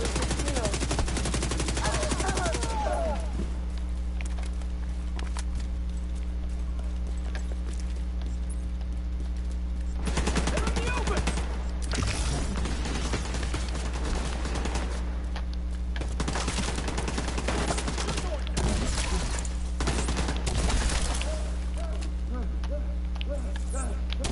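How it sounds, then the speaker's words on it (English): Rapid bursts of gunfire from a player's weapon in The Division 2, loud and repeated in several clusters over a steady low background hum, with short pauses between volleys. "I'm targeting the weak spots with my gun"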